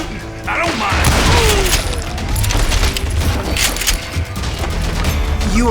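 Dense, continuous gunfire with rapid shots and booming impacts in the Western shooter video game Call of Juarez: Gunslinger, loud and close, with a character's voice occasionally heard over the shooting.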